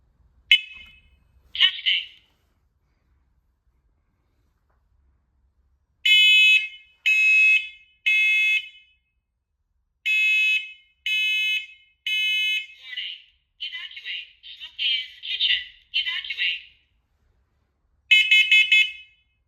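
A First Alert SMC 0210V hardwired, battery-backed smoke and carbon monoxide alarm in test mode sounds loud, piercing groups of three electronic beeps, separated by pauses and alternating with a spoken voice warning.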